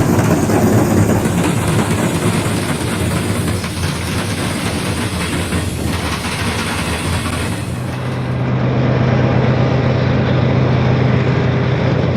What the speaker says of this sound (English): The short intermodal train is running as a second section of Mail 8